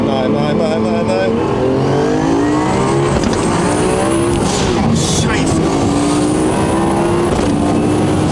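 A car on a Los Angeles road accelerates hard in third gear, its engine note climbing loud and near with a sweeping rising pitch and tire noise over about eight seconds. People talk over it.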